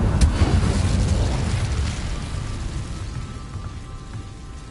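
A spell burst from Hogwarts Legacy, the Incendio fire charm, hits with a loud crackling whoosh at the start, then fades into a long rushing roar of flames with no talking.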